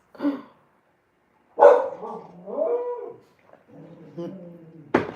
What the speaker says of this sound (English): That's Ray for you that she needs to bark at everything under the sun.